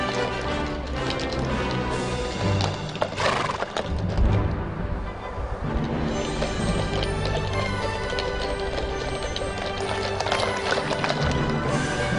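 Horses at a Zeeland draft horse gathering in Noordwelle, with hooves clip-clopping and a neigh rising over a steady, busy outdoor background.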